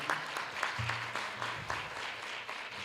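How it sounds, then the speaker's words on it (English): An audience claps for a dance troupe at a launch event, steady dense applause from a crowd filling the space for about three seconds, moderately loud and without pauses. "A round of applause again for the Tivoli Dance Troupe."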